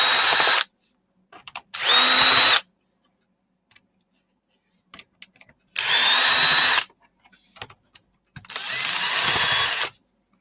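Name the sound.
power drill removing screws from aluminium scrap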